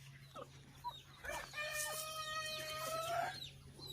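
Chickens cluck in a backyard farm coop while a rooster lets out one drawn-out crow in the middle, all fairly faint and a little distant.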